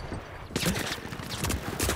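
Rapid automatic fire from a deployed turret in The Finals, several loud bursts with short gaps, close and fairly dense.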